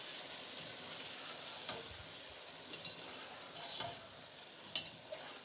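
Chicken for a lemon korma sizzles steadily in a pan, with a few soft scrapes and clicks as it is stirred, close and fairly quiet with no talk.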